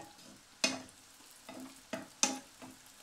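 Msemen dough frying in hot oil, a low steady crackle broken by a few sharp spits and clatters, nearby and moderately loud with no talk.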